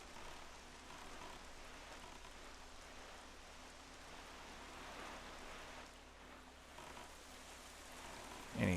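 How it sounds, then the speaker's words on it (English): Rain falls in The Legend of Zelda: The Wind Waker HD as a soft, steady patter and hiss that stays even throughout, with a brief louder blip at the very end. "Oh, it's raining."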